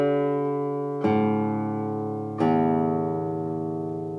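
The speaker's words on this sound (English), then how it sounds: "I'm gonna play just open strings to hear, so you can hear how it sounds from one string to another." Open strings on a double-top acoustic guitar, plucked one at a time: a sustained ringing chord-like tone with two clear new attacks, each note blooming and decaying slowly, close and clean with no talking.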